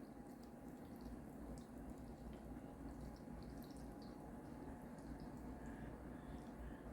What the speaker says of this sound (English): So right now we're just going to pour my milk mixture over my bread.